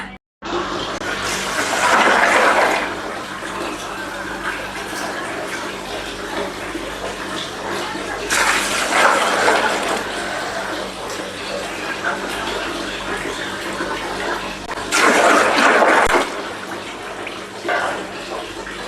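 Water runs steadily into a container from a tap or dipper, a continuous splashing hiss that swells in several louder surges, heard nearby at a home birthday gathering with people talking over it.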